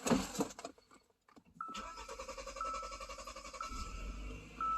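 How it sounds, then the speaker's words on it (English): A Kia/Hyundai GDI car engine with a newly replaced high-pressure fuel pump cranks briefly, falls quiet for a moment, then catches and settles into a steady idle with a ticking whine. "So we're gonna start the car."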